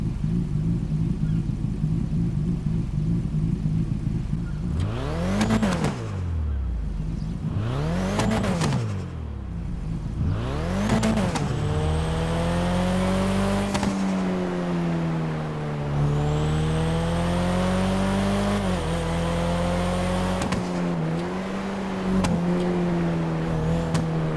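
Car engine in the GTA Online video game revving up and down in repeated sweeps, then cruising with a steady high drone, loud and close throughout; individual backfire pops are not clearly distinct.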